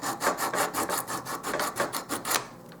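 Wood being sanded by hand with an emery board or sandpaper during a cheap hall table makeover: a quick series of about ten rhythmic rasping back-and-forth strokes, close and fairly loud, with no talking.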